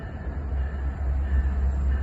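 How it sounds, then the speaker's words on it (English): A Metra Milwaukee District West commuter train pulls into Roselle station, its low rumble rising and falling under a faint steady whine, moderately distant with no talking. "Milwaukee West Main Line train number 2227 to Big Timber is now arriving."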